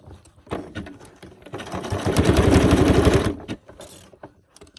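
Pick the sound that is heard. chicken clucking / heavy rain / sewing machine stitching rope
sewing machine stitching rope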